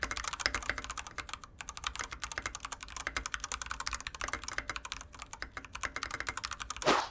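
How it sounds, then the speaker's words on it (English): Keys clatter on a mechanical keyboard at a fast, even rhythm, crisp close-up clicks and clacks forming a continuous burst with a few brief pauses. "I'll just put in a little sound test for you guys just in case you're wondering how it sounds."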